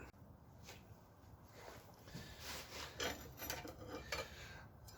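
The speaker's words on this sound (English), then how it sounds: "A dull farrier rasp. Not only good for making knives, but also good for taking wood down." A dull farrier rasp files down a wooden handle for a railroad-spike tomahawk, giving a steady series of coarse, scraping strokes, close and moderately loud, with no talking.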